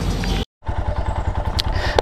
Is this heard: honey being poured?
no